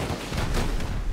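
Dense, continuous volley of gunfire and rocket blasts in the survival video game Rust, loud and sustained with no clear gaps between shots.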